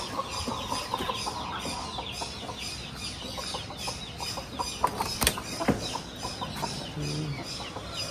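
Chickens cluck and squawk close by in a busy zoo farmyard, with scattered clucks overlapping against steady background noise.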